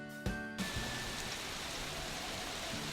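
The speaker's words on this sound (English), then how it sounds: "She was just standing there, staring vacantly at the falling rain." Steady falling rain in a video game, a constant soft hiss of drops that runs the whole stretch at low level, with a brief tonal sound near the start and no talking.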